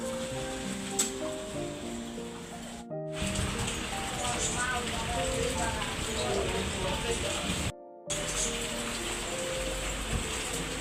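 Steady rain falls continuously with a dense hiss, briefly cutting out twice, while a voice talks over it.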